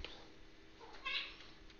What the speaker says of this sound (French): J'ai mon chat qui fait des folies.